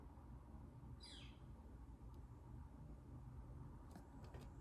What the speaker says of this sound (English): I hope you could hear that bird in the background as confirmation.